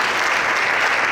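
A church congregation claps together in steady, dense applause that fills the room at full loudness, with no voices standing out.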